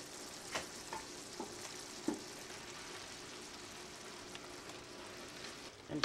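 Summer garden vegetables and spaghetti are folded and tossed in a pan of sauce, with soft wet stirring, faint sizzle and occasional light clinks of the utensil against the pan, fairly quiet throughout.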